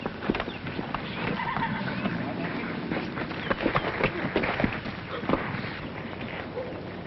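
A thoroughbred horse nearby, with soft clopping hooves, shuffling and an occasional snort or whinny over a steady noisy background, faint and somewhat muffled, in an old recording.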